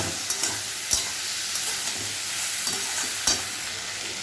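Mourala fish curry with potatoes and green chillies is stirred in a pan, a steady hissing simmer marked by a few sharp taps of the spoon against the pan, with no speech.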